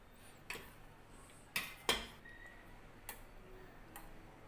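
Sliced, marinated fish being stirred with other ingredients in a bowl: a handful of sharp, scattered clinks and taps of a utensil, quiet and close, with no talking.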